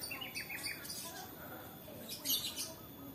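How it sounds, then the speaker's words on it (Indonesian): Birds chirp and call around a quiet rural Central Java village with joglo houses, scattered high tweets and squawks coming from a distance over soft background ambience, along with some faint speech. "Banyak burung."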